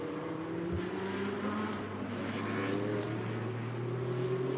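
Race car number 89 passes on the Sepang circuit at a Thailand Super Series race, a steady loud engine drone with shifting pitch over constant background roar and no voices.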